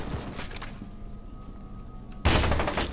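Gunfire in a chaotic video game firefight in F.E.A.R., with dense bursts of shots and impacts under a din of combat noise, then a much louder blast of fire breaking out near the end.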